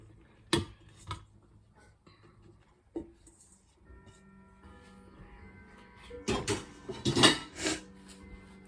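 Ground beef tipped into a salad bowl, with scattered clinks and scrapes of utensil against dish, a few isolated taps early and a busier cluster of clatter near the end, no talking.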